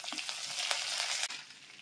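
Cumin, mustard seeds, dried red chillies, curry leaves and chana dal frying in hot oil for a tomato-coriander chutney tempering, a close, continuous crackling sizzle.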